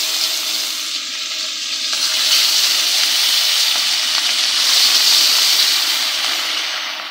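Meni fish fries in hot oil in a pan, giving a loud, close, steady sizzle that swells slightly and holds for several seconds without any talking.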